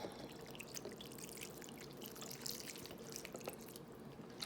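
Liquid poured into a bowl of Thanksgiving turkey stuffing mix, a soft continuous trickle and drip heard up close and fairly quiet, with no talking.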